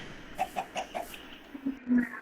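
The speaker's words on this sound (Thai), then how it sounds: "ผมก็มีไก่สองตัว" A Minecraft chicken clucks in short, evenly spaced blips, followed by a couple of lower, louder clucks, all fairly close.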